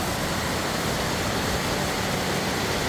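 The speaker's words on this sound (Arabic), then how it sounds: "شلال فرايا يلي بينزل من شبروح." Faraya waterfall in Lebanon pours down from Chabrouh with a loud, steady, close rushing roar. The sound is unbroken and has no voices.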